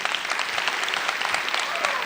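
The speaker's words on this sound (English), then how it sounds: "I'd like to give a round of applause to our panelists" Audience at a town hall meeting on substance abuse applauding the panelists, a steady, dense wash of clapping that holds evenly throughout without pause.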